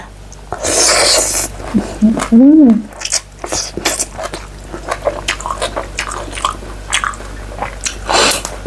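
Close, wet chewing and squishy bites of spicy green papaya salad with apple snails, a home-style Isan dish, repeated in quick irregular mouthfuls, with a brief voiced hum partway through.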